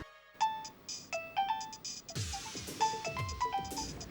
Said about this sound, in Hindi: डेबी फोन क्यों नहीं उठा रही है?